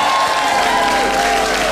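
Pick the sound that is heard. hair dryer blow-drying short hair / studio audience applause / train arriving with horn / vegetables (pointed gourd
studio audience applause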